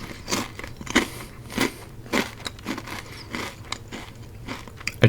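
Ruffles All Dressed potato chips crunch in a series of crisp, close bites and chews, spaced every half second or so, in a quiet setting with no talk.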